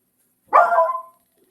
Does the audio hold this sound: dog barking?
yes